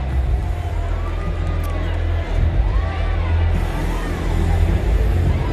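Large expectant crowd at the Hockey World Cup final between Germany and Belgium in Odisha, a dense steady roar of babble and cheering throughout, with a commentator speaking over it.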